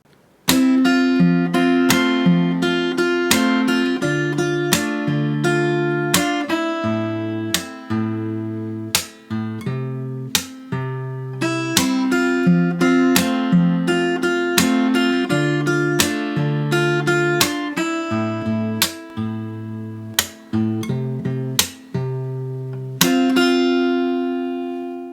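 A fingerpicked guitar plays the first verse of a song, with clear plucked notes and chords in a slow, steady rhythm, ringing cleanly and closely recorded with no voice.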